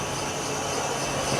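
A steady, dense mechanical whir with a high metallic hiss, even and continuous throughout, from a boring machine making a centered cut while reboring an engine cylinder for sleeving.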